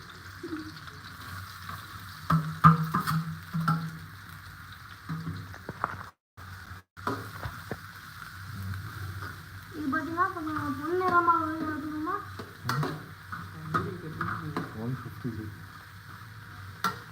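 Chopped onions frying in oil for a chicken curry, stirred with soft scraping against the pot over a low, steady sizzle, close by, while people talk intermittently.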